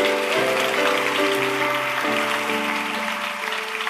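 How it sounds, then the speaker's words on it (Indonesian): A church congregation applauds in a dense, even patter, with sustained keyboard chords ringing underneath throughout. "kita beri tepuk tangan untuk Tuhan Yesus dulu"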